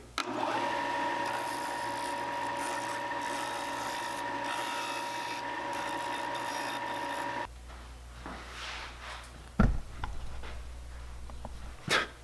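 A bandsaw runs steadily with a loud, tonal whine while cutting a wooden crankbait lure body, then shuts off and spins down, followed by a few clunks and handling knocks close by.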